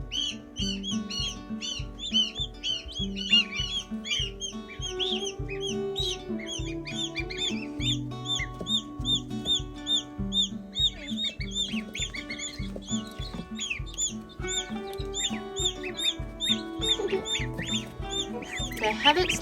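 Serama chicks and two newly hatched goslings in a clean brooder, with rapid high chirps and peeps repeating continuously over a steady low hum, close and fairly loud throughout.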